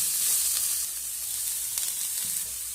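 Grated carrot goes into a pan of cauliflower that is already frying, and a soft, even sizzle carries on with faint stirring clicks, close to the mic and with no talk.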